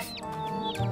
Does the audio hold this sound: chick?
yes